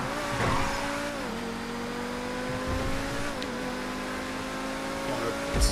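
T99 car engine in GTA 5 during a custom race, a steady droning engine tone that dips and rises with gear shifts, close and continuous, with a brief rev near the end.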